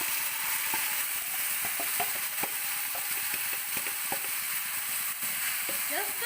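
Paneer pieces sizzle and crackle in hot oil in a pan, a close, steady frying hiss scattered with sharp pops and stirring clicks.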